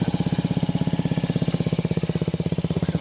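A 2009 Honda Ruckus 50cc scooter fitted with a Yoshimura TRC aftermarket exhaust idles steadily, a close, even, rapid putter of low pulses running without pause.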